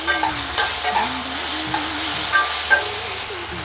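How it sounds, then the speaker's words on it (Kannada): Onion and tomato fry in hot oil while being stirred, giving a steady close sizzle broken by repeated scraping and clinking of the spoon against the pan. "ಈರುಳ್ಳಿ ಫ್ರೈ ಆದಮೇಲೆ ಟೊಮೊಟೊ ಸೇರಿಸಿ ಅದನ್ನು ಕೂಡ ಚೆನ್ನಾಗಿ ಫ್ರೈ ಮಾಡ್ಕೋಬೇಕು."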